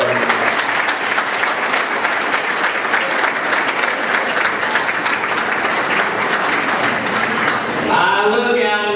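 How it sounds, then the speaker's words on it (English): A crowd at a political speech breaks into sustained applause, dense and loud for several seconds before tapering off, with a voice beginning to speak over the end. "giving a round of applause to our president."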